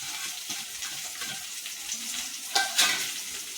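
Grated coconut roasting in a pan for a mackerel curry, a steady close sizzle with soft stirring rustle, then two sharper scraping clacks near the end.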